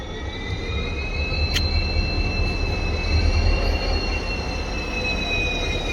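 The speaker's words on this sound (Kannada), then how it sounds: "ನಮ್ಮ ಟ್ರೈನಿಗೆ ರೆಸ್ಕ್ಯೂ ಲೊಕೋಮೋಟಿವ್ದು ಡೀಸೆಲ್ ಲೊಕೋಮೋಟಿವ್ ಗುರು" A passenger train on the Mysore–Talaguppa line, hauled by a KGM WDP4D diesel rescue locomotive after its WAP7 electric failed, rolls along with a steady loud rumble and a continuous high wheel squeal running throughout.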